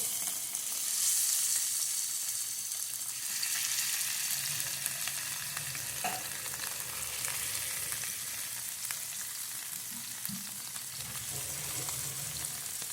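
Fish frying in a pan gives a steady, moderately quiet sizzle and crackle throughout, with a few faint clinks and spatters and no talking.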